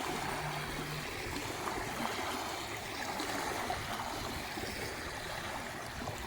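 Small waves lapping steadily on a river shore, a continuous soft wash of moving water with no voices, fairly close and even in level throughout.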